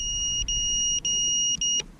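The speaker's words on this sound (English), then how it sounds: "it's still beeping, let me know that my battery's critically low." Close, high-pitched electronic low-battery alarm beeps from a Tovsto Falcon 210 racing quadcopter repeat in long tones separated by brief gaps, three in a row over a faint low rumble.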